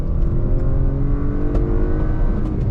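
A 2022 Acura RDX A-Spec SUV accelerating hard on throttle in sport mode, a steady loud engine drone with rising tones and road noise heard from inside the cabin.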